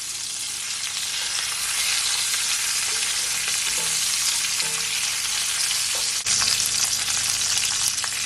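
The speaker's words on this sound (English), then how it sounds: "I'm gonna cook my lamb chop for another 3 minutes." Garlic butter lamb chops fry in a pan with a loud, continuous close sizzle and occasional pops, steady throughout with no voices.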